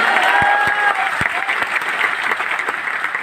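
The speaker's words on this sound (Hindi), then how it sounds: "एक बार तालियां बजा के बता दीजिए" Applause from a crowd at a student meet-up, a full round of clapping with a few louder hand claps near the front and a brief voice or tone mixed in early.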